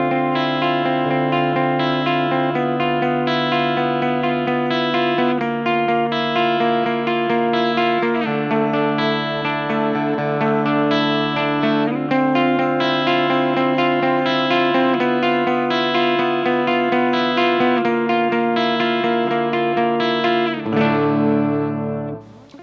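A distorted electric guitar on its bridge pickup, an Ellis TX2 handmade custom guitar, plays a continuous riff with sustained chords and quick note changes, loud and saturated, ending abruptly.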